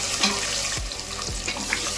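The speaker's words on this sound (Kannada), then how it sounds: "ಈಗ 3 ಈರುಳ್ಳಿ ಕಟ್ ಮಾಡಿ ಇಟ್ಕೊಂಡಿದ್ದೀನಿ ಸಣ್ಣಗೆ, ಇದನ್ನ ಹಾಕೊಂತ ಇದೀನಿ" Onions frying in oil, a steady sizzle broken by a few soft scraping stirs of a utensil in the pan; no one speaks.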